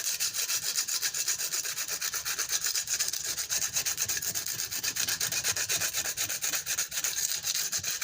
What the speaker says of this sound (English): take a piece of sandpaper